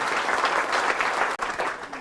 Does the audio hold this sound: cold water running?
no